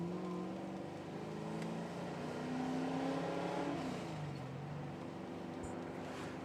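A car climbing a mountain road in Australia, its engine note rising and falling through gear changes, a fairly quiet steady drone heard from inside the cabin.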